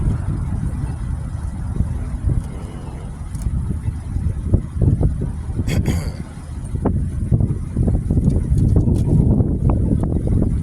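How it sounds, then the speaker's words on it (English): Wind blows hard outdoors, buffeting the microphone with a continuous low rumble and gusty surges, with occasional small knocks and rattles and no one speaking. "We're gonna nip this in the bud because this wind is blowing."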